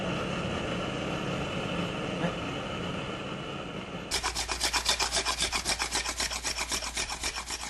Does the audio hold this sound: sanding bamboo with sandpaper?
yes